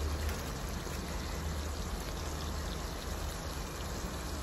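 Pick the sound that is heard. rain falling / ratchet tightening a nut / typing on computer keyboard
rain falling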